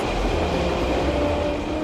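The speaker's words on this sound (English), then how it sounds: "Bullet train's back online and ready to roll." A bullet train rolls along steadily with a continuous low rumble and rail noise, close and loud, no voices.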